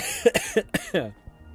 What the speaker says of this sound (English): It's like a reflex to cough.